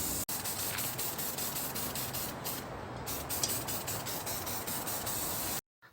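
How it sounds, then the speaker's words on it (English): A continuous close hiss of spray paint coating a prop box black outdoors, with several short pauses, ending in a sudden stop. "We are going to spray this box down right."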